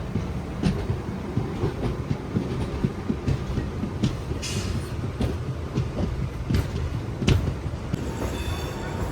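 Bhimavaram to Vijayawada MEMU train rolling at night, a low steady rumble with periodic clicks and knocks from the rails, moderately quiet, with a brief hiss near the end.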